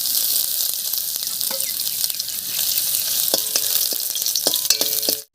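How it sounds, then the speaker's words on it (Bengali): Dried chillies, bay leaves, whole cumin and fennel seeds sizzling in hot oil for a Bengali dal tempering, a loud, dense, continuous crackle with scattered spatter pops and clicks, ending abruptly, with no talk. "তেল গরম হয়ে গেছে, তেলের মধ্যে দেবো 2টো শুকনো লঙ্কা, 2টো তেজপাতা, সামান্য একটু গোটা জিরা আর সামান্য একটু মৌরি।"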